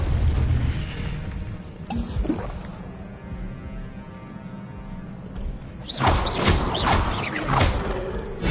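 A Confringo fire spell blasts in Hogwarts Legacy: a booming magical burst at about two seconds, a lingering low hum, then a bright crackling flurry of bursts near the end.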